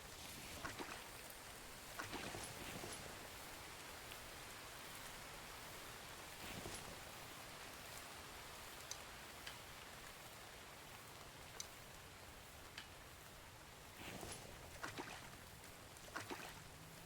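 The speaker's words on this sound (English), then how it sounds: "I hate to wait till the rain stops" Rain falling in a fishing video game, a faint, even hiss of rainfall with a few soft splashes and taps scattered through it, no talking.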